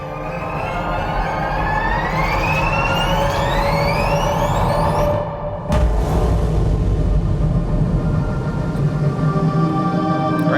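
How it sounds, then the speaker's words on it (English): Electronic tones sweep upward in a synthetic spaceship computer startup sequence over a steady hum, then cut off and give way to a loud, continuous spaceship engine roar. "Computer startup, engine start."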